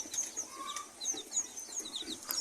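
Backyard chickens, native hens among them, cluck and chirp in short, scattered calls, faint and slightly distant, with a light outdoor hiss beneath.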